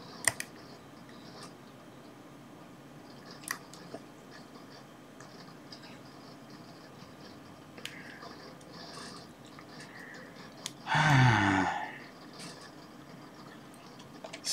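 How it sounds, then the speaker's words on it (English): A craft knife cuts heat-shrink tubing off a Maker Faire badge: a single short, loud scraping snip near the end, after a long stretch of quiet handling and faint ticks. "I suppose a craft knife will be the best way to do that. Let's just cut that off."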